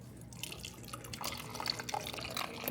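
Water is poured into a cooking pot while applesauce is being made, a faint, splashy trickle that goes on for a few seconds in a quiet kitchen.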